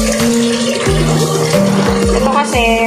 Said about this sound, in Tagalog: ganyan siya kadami yung tubig na ihahalo natin sa ating champurado